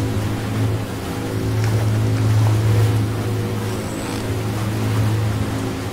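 A rescue boat's engine drones steadily as it moves through water in Ship Simulator, a constant low hum with a faint wash of water and no voices.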